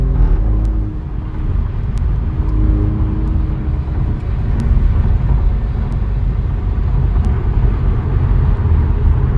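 A JB4-tuned Alfa Romeo Giulia QV accelerates hard from 0 to 60, its engine a loud, steady, deep rumble heard from inside the car, with a few brief sharp ticks and no speech.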